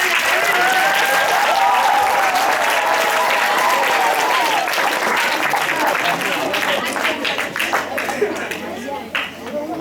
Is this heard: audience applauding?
yes